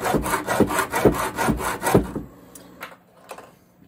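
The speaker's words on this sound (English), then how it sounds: "And you're going to cut it a few times to get into the piece of AC90." A hacksaw cuts into AC90 armored cable in a quick run of about five loud, rhythmic rasping strokes, then a few lighter scrapes trail off into near quiet.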